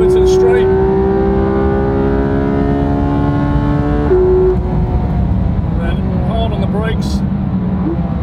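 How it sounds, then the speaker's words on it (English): A racing car accelerates hard down the Wellington Straight at Silverstone, its engine a loud, steady rising whine that drops sharply near the four-second mark before revving again as a voice talks over it. "Hard on the gas down the Wellington Straight."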